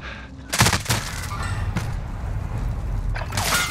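Bursts of automatic gunfire in Call of Duty Modern Warfare on Rebirth Island, with sharp volleys near the start and again near the end over a steady rumbling game background.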